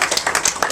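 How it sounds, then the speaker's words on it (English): Short spell of applause at a local Democratic committee pizza-and-politics gathering, a patter of individual claps from a modest crowd, close and fairly loud. "I'm applauding my teammates because they were fabulous."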